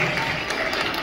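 A crowd at a birthday party claps at the host's request, a brief, dense burst of steady applause heard close.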